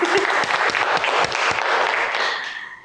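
A television studio audience applauds on a game show. The clapping is dense and steady, then gradually fades out toward the end, with no talking over it.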